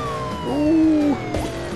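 Police siren in the Beach Buggy Racing video game, a short rising and falling wail that swells loudly then fades over under two seconds amid racing game sounds.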